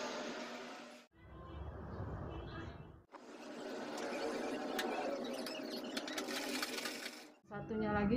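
A sewing machine stitches a child's dress (daster) in three bursts of fast, whirring needle rattle, broken by brief pauses, close and fairly quiet.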